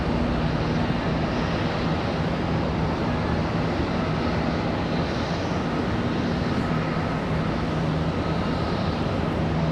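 A PSA Airlines regional airliner arriving from Akron at Charlotte Douglas airport gives a dense, steady engine roar with a low droning hum, loud and unbroken throughout, with no talk.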